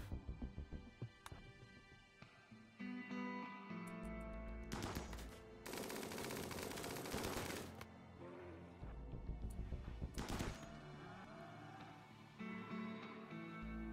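Sustained assault rifle gunfire from a battle in the video game RimWorld, with rapid automatic bursts and bursts of heavier fire, mixed over steady game background sound.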